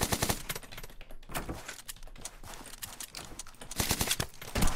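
Video-game gunfire in an io shooting game: dense rapid bursts of automatic shots in quick clusters, loud and close, with short pauses between volleys and no talking.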